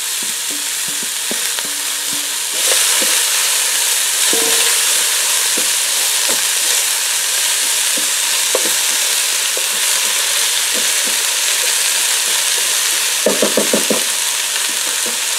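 Cabbage sizzles and fries steadily in a Ninja Speedi, a constant hiss that swells when the vegetables go in, with occasional stirring clicks and a short burst of scraping near the end; no voices.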